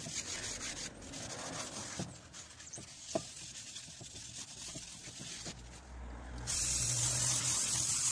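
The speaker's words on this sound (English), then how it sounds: "Use all of the brake cleaner." Brake cleaner sprays in hissing bursts onto car brake parts during a DIY brake job, with a steadier, louder spray toward the end and a few light knocks between bursts.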